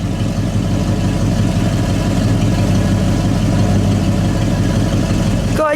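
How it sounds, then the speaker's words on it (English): A 1969 Mercury Cyclone Spoiler with a 351 V8 and dual exhaust idles close by, a steady low burble that holds even for several seconds with no talk over it. "Let me listen to it idle for a second."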